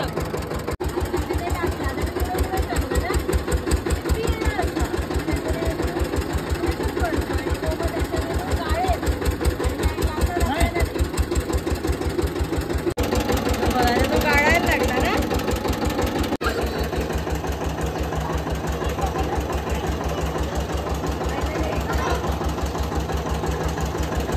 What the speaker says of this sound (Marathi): हा ते आतमधून जातं, मग त्याला ते पिळतं सारखं आणि मग इकडून ज्यूस बाहेर येतो.